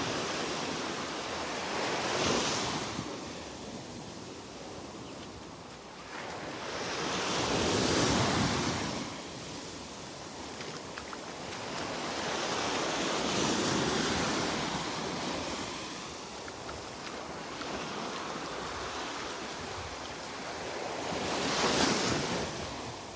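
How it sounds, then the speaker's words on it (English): Ocean waves rolling onto the beach at Delnor-Wiggins on the Gulf coast, with slow surges of surf building and breaking every several seconds over a steady hiss of wash and light wind. "Trying to hypnotize you with the waves."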